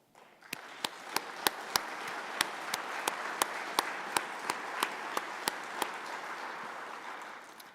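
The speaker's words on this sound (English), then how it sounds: "will you please stand for a round of applause?" Steady auditorium applause at a university winter convocation, honoring foundation staff as they stand; dense clapping continues for several seconds with sharp periodic clicks punctuating it.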